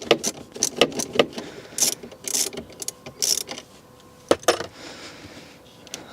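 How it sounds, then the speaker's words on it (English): A wrench loosens the 10mm nut on a car battery's negative terminal, producing a series of sharp metallic clicks and ratcheting taps at close range, irregular and bursty, with brief pauses between turns. "So we want to disconnect the negative terminal, just a 10mm nut"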